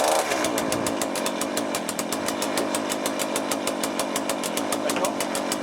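A small, cheap chainsaw engine runs steadily right after a carburettor rebuild, its loud, buzzy two-stroke note close and continuous with a fast, even pulsing throughout and no talk over it.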